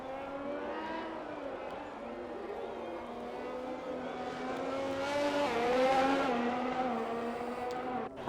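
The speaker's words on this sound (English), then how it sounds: "Ross in the McLaren coming out of the pits now" A McLaren race car in a racing video game pulls out of the pits in Spain, its engine whine holding a steady tone and then rising as it accelerates, with faint commentary running underneath.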